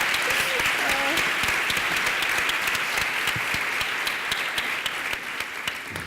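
An audience at a film colloquium breaks into sustained applause, dense overlapping claps with some sharper individual hand strikes standing out, while a voice briefly murmurs near the start.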